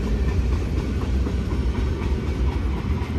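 BNSF freight cars, including tank cars and gondolas, roll past at Blue Cut on Cajon Pass with a loud, steady rumble and rhythmic clickety-clack of wheels over rail joints, close and continuous throughout.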